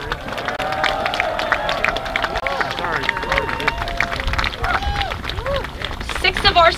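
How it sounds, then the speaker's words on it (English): A crowd gathered at an outdoor vigil in Union Square, New York City, claps and cheers loudly and continuously, with whoops and scattered shouts rising over the applause. "Community, I want you to give yourselves a round of applause for just being here and just existing."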